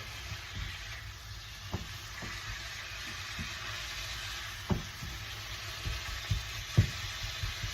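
Ground beef is stirred with seasonings in a hot pan, a constant soft sizzle punctuated by scattered knocks and scrapes of a utensil, close and without voices.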